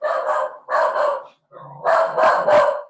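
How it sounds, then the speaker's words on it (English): A dog barks indoors in a run of loud, close barks: two separate barks, a short pause, then three quick barks in a row, with no talking over them. "He's barking at something."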